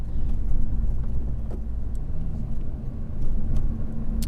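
A Honda Civic Type R FK8 Limited Edition is driven on a hill circuit, heard as a continuous mid-loud engine and road rumble from on board, with faint clicks and no talk.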